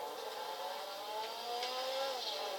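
Engine of the Blista Compact car in GTA 5 drones continuously with a whirring mid-range tone that climbs gently as it speeds up, steady and unaccompanied by voices.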